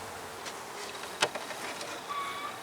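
Honeybees at a hive being built out into a second box hum as a faint, steady drone, with one sharp click partway through.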